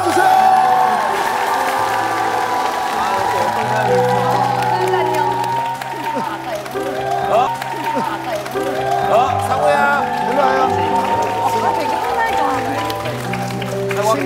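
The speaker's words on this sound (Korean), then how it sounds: "큰 박수로 와주시기 바라겠습니다" A studio audience on a Korean TV variety show claps and cheers for a 14-year-old boy pianist. The applause stays steady and dense throughout, with whoops and a presenter's voice over the top, backed by a low musical tone.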